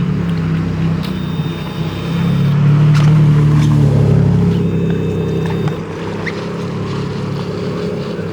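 A Ferrari Enzo supercar passes on a Monaco street, its engine swelling from a steady rumble to a louder throaty roar in the middle before easing away, with faint crowd and street noise behind.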